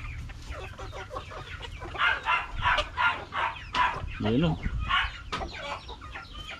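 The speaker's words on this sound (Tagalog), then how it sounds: "Ayan o mga katong, nagsisida tingnan na yung mga manok o." Chickens cluck in a busy, repeated chatter close by while someone speaks over them, the birds being fed black soldier fly larvae.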